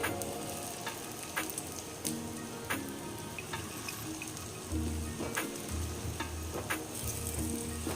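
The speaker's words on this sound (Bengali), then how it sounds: "এখানে তেল বসিয়ে দিয়েছি। এবার ডালের বড়াগুলোকে দেবো, ছোট্ট ছোট্ট করে দেবো।" Small lentil fritters (dal bora) fry in hot oil, giving a steady close sizzle with scattered pops and clicks throughout and occasional low thumps, and no talk.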